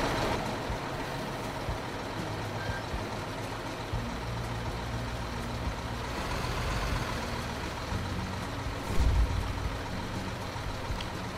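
Trucks rumble and idle around a gravel plant in Construction Simulator 2015, a steady low engine drone with a swell midway and a brief louder thump near the end, no voices.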